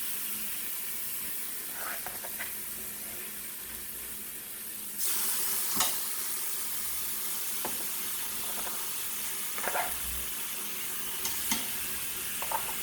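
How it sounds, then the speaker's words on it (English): Meat sears in garlic olive oil inside an Instant Pot for pot roast, giving a soft, continuous sizzle and hiss with occasional utensil taps and a brief louder burst partway through. Nobody speaks. "let it sear"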